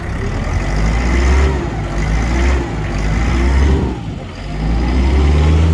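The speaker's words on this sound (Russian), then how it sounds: "Как работает двигатель." A used Mitsubishi MT251 mini tractor's diesel engine runs close by, a loud, steady low rumble with a persistent knocking hum that swells and eases slightly as the throttle shifts, with no speech.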